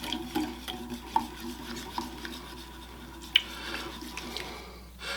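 Melted butter is whisked into buttermilk with soft, quiet scraping and sloshing strokes, punctuated by a few light clinks of the whisk against the bowl.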